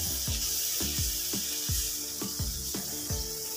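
Mutton liver curry masala with cumin frying in a pan, a continuous sizzle with repeated scraping strokes from stirring at an even pace, close and clear with no talk.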